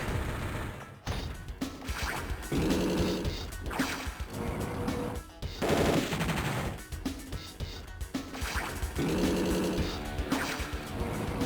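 Artillery bombardment on tanks in the Advance Wars: Dual Strike strategy game, with repeated loud blasts and crashes in bursts set over a continuous game music track.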